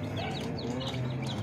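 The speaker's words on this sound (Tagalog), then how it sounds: "marami na naman tayo mga sisiw mga Kapinoy" Chicks and chickens make close, repeated high peeping chirps over a soft background of clucking and barnyard rustle.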